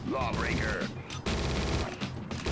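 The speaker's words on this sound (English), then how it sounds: "I'm machine gun sniping." Machine gun fire in the video game Judge Dredd vs. Death, rapid bursts of automatic shots with a brief gap between them and game sounds mixed in.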